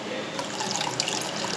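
Water poured into yogurt (dahi) to thin it into buttermilk for Rajasthani bajra raab; a steady, close, continuous splashing pour with no talking.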